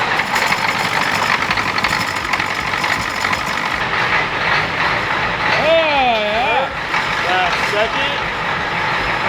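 A 300,000-mile turbo Ford F350 truck engine idles steadily while warming up, a continuous loud diesel-type rumble with people talking over it and a brief high whine near the end.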